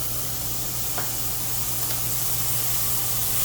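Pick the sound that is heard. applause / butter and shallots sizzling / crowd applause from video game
butter and shallots sizzling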